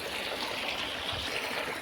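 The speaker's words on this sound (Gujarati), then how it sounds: "બોરમાંથી થાય ને અહીંયા પાણી આવે છે અને અહીંથી સીધું ડાયરેક્ટ જાય છે ઘઉંની અંદર" Borewell water pours into a wheat field with a steady, close rushing and trickling flow that holds at an even level throughout.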